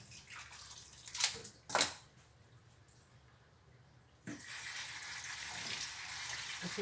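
Market-bought vegetables being washed under running water, with a couple of sharp splashes early on, then a steady rush of flowing water from about the midpoint to the end.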